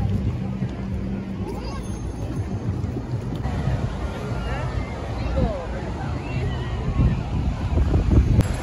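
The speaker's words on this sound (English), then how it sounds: "Just to hear the waves go off again" Ocean waves wash along a pier in Los Angeles. The rushing surf blends with strong wind buffeting the microphone and a murmur of people nearby.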